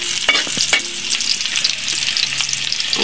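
Garlic, ginger and onion sauté in a hot pan with a steady, bright sizzle and a few sharp stirring clinks near the mic; no voices.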